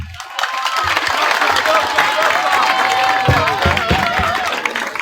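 Audience applause for a doctor at an educational talk at an institute, steady dense clapping mixed with crowd noise and cheering, with voices over it near the end.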